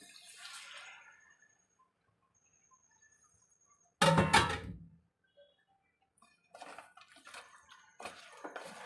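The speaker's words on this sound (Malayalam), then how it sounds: "ആ മസാല ഒന്നും കളയാതെ ആ പാത്രം ഒന്ന് ചെറുതായിട്ട് കഴുകി അതുകൂടെ ഇതിലേക്ക് ചേർത്ത് കൊടുക്കാം" Water splashes as a bowl that held crab roast masala is rinsed and the liquid poured into a pan, a loud burst in the middle followed by softer clattering and trickling near the end.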